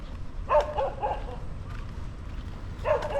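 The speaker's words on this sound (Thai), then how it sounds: "มันก็จะเห่าไปตามธรรมชาติของมัน" A dog barks in short bursts at an abandoned late-Ayutthaya temple in Nonthaburi, Thailand, with a few sharp yips spaced apart. The barking is at a moderate distance over quiet outdoor background noise.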